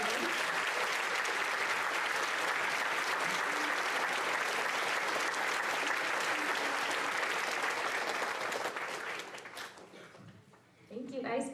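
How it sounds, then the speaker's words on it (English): A school promotion ceremony audience applauds students with loud, dense, continuous clapping that fades and thins out toward the end, with a few voices emerging as it dies down. "All right, another round of applause for these students."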